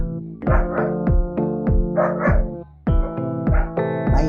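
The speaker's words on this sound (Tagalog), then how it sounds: "Maingay yung aso natin mga tol." A dog barks repeatedly and loudly nearby, a quick series of sharp barks with brief pauses and a couple of higher yelps.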